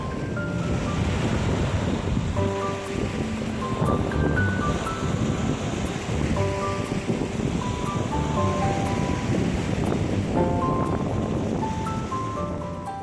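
Ocean surf washes steadily onto a rocky shore at Jeokbyeokgang on Korea's west coast, with gusts of wind and a soft melody playing underneath.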